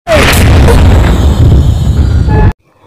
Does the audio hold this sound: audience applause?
no